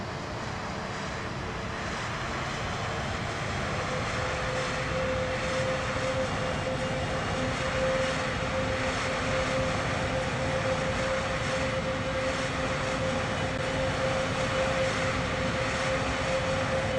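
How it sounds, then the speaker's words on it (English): A fixed-wing airplane's engines drone steadily during landing, a loud, continuous roar with a sustained tonal whine running throughout, no talk heard. "Always fun to watch a landing like this."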